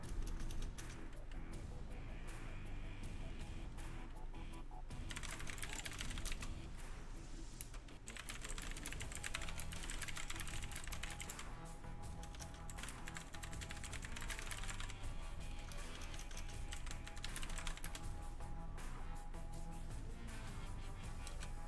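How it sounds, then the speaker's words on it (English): Quick typing on a computer keyboard, a rapid, continuous patter of close key clicks with short pauses, fairly faint and steady, with no talk. "I was just quickly typing there"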